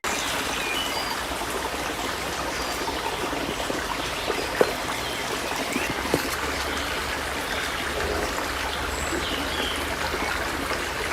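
A nice little stream flows steadily nearby at dawn, a continuous bright rushing and trickling of water with an occasional splash, no voices over it.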